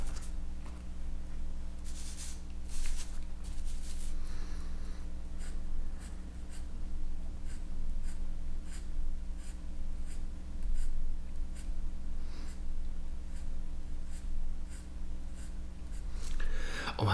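An F graphite pencil drawing on paper, close scratchy strokes in repeated short bursts with a steady rhythm, quiet and intimate with soft breathing and no talk.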